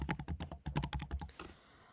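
Code being typed on a computer keyboard, a fast run of crisp close key clicks in an uneven rhythm, stopping shortly before the end and leaving faint room noise.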